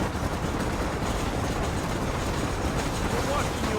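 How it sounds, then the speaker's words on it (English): A steady, dense rumbling roar of a train running in Red Dead Redemption, continuous and fairly loud throughout, with no clear breaks. "The train is waiting."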